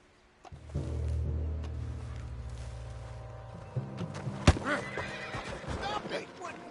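A spooked horse whinnies loudly amid a busy scene in the video game Red Dead Redemption 2, with hooves shuffling, a sharp knock and people talking over the commotion.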